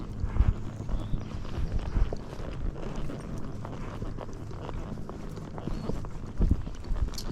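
A grey Missouri Fox Trotter horse's hooves clop steadily on a dirt trail in a continuous walking rhythm, with rustling and a few heavier thuds nearby.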